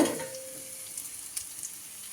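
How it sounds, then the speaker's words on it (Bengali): Chopped onions fry quietly in a pan with salt and turmeric, a faint, even sizzle with a few light taps and stirs and no one talking. "পেঁয়াজ কুচি দিয়ে দিলাম এবার পেঁয়াজ কুচিটাকে একটু ভেজে নেব"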